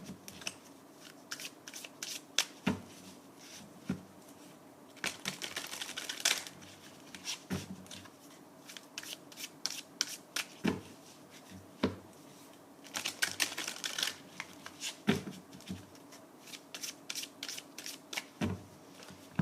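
Tarot cards shuffled by hand at close range, a steady run of soft papery riffles and crisp flicking snaps repeating in bursts, quiet with no talking.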